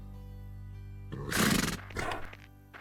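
A wild horse being tamed lets out one loud, close neigh of about half a second, then a shorter snort or whinny, after a quiet start with no talking.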